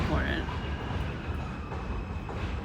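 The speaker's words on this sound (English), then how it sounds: "the fucking train comes by as I'm leaving the message that was very important" A train rumbles past nearby, a steady low roar with faint rail squeal, heard outdoors while a voice speaks faintly under it.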